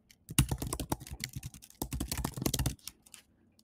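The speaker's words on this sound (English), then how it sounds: "you could type in your code" Fast typing on a computer keyboard while entering code, with close, crisp key clicks in bursts and a short pause, then a few trailing taps.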